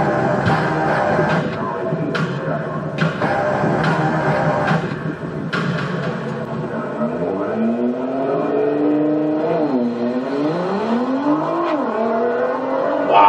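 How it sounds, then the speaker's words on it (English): A car launches hard on a drag strip, its engine revving loud and close and then rising through several gear changes as it pulls away. There is no talk. "That car came off quick."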